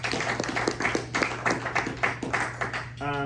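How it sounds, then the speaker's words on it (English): A brief round of audience clapping at a press luncheon, with individual claps audible in an uneven rhythm over a steady hum, ending as a voice begins. "Let's give Mayho Prentice a quick round of applause."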